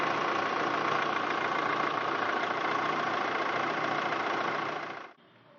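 A diesel engine idles with a steady, dense knocking rumble at close range, continuing evenly for about five seconds before cutting off abruptly into quiet.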